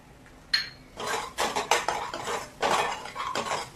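A spoon scrapes and clanks against a pan as masala is stirred and roasted for a mutton dish, a run of irregular metallic scrapes and knocks, close and fairly soft, with no talk.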